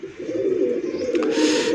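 Low Flyer pigeon cooing in a steady, fairly close murmur that runs through the whole short stretch, with a brief higher chirp near the end.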